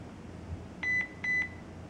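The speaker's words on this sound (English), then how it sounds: "And the camera has beeped." Two short electronic beeps from a HeimVision smart security camera during QR-code Wi-Fi setup, evenly spaced and clear over a quiet room hum.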